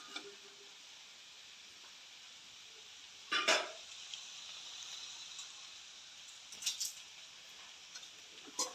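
Vegetables stir-fried and mixed for fried rice give a quiet, steady sizzle, broken by a couple of short bursts of spatula scraping and pan clatter.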